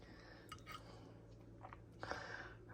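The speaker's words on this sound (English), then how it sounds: "it's quiet because I'm chewing" Quiet close-up chewing of a bite from a budget hot dog meal: soft, faint mouth sounds and occasional crunchy bites over low background hum, with no talking.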